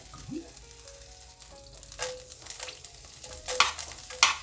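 Swiss chard frying in the same pan used for chicken gives off a soft, steady sizzle with scattered stirring scrapes and a few louder crackling bursts near the end; no one speaks.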